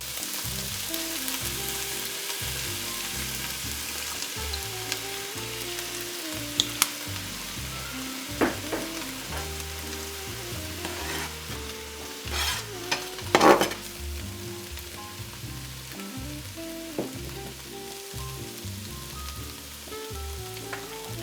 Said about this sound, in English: You want to make sure that you break up all that tomato paste so it doesn't clump together.